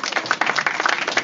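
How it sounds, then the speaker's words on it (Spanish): Audience applause at a charity event in Huatulco, Oaxaca, a steady, fairly loud wash of many hands clapping with no pause across the short stretch. "Un aplauso para él."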